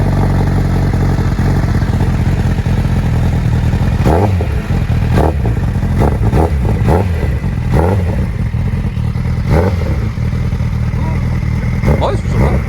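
A Honda CBR 1000 RR SP2 motorcycle engine starts and revs, sharp repeated throttle blips over a steady idle, close and loud, with people talking throughout.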